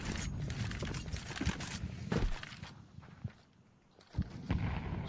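Gunfire in a professional Counter-Strike match at the PGL Bucharest 2025 quarter-finals: several sharp shots and footsteps over game ambience, with a brief quiet lull before more bursts.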